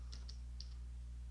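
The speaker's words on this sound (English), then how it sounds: "it's always fun talking and typing at the same time" Keys tapped on a computer keyboard while programming a TI-83 Plus calculator in assembly: a few soft, irregular clicks over a steady low hum, fairly quiet and with no voices.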